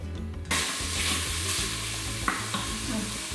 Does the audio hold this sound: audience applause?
no